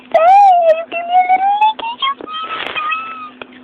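A pet cat gives a drawn-out, wavering meow followed by several shorter mews, close and fairly loud, with a faint steady hum underneath.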